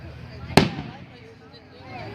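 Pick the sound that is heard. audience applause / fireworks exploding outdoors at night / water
fireworks exploding outdoors at night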